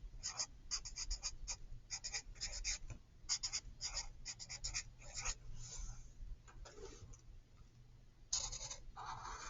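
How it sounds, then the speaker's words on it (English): Pen writing on paper at close range, short bursts of scratchy strokes repeating in quick groups with brief pauses between words, quiet and alone with no talking. "I'm just writing a couple words for each one"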